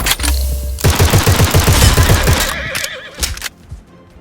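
Cavalry horses in the war video game Glory Front Line, loud close neighing and whinnying over a rapid rattle of hooves and gunfire, fading out toward the end.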